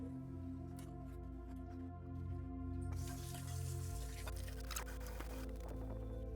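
A garden irrigation sprayer fed by a pipe running to potted plants hisses steadily close by. The spray grows louder and broader partway through, and faint drips sound through it.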